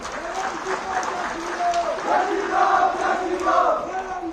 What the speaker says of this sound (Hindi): भाई 100 करोड़ की ताली कैसी होती है?